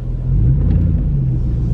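A big truck drives along with a steady, loud low rumble from the engine and road, continuous throughout with no voices.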